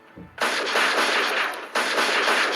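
Gunfire in a dough-man rescue video game comes as two long bursts of loud, close, sustained shooting after a brief quiet start, with a short dip between the volleys.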